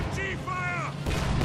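Gunfire and artillery blasts in a World War II strategy video game, with a heavy boom arriving partway through after tonal whistling effects, all fairly loud and close.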